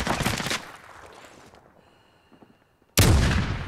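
Gunfire in Call of Duty Warzone, with loud, dense bursts of automatic fire at the start that fade into a quieter tail, a brief hush, then another abrupt, heavy burst close up.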